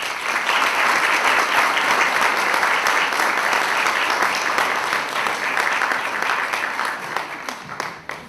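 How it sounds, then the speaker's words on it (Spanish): Sustained audience applause fills the room at an interview presentation of an artificial intelligence author, dense steady clapping lasting about eight seconds before tapering off at the end, with a faint voice underneath. "Pedimos un fuerte aplauso."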